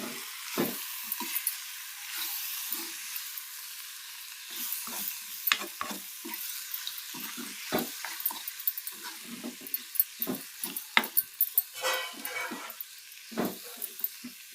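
Chili powder frying with ivy gourd in a pan: steady soft sizzling with irregular stirring scrapes and occasional sharper pops, close and moderately loud, no talking.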